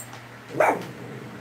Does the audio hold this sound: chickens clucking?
no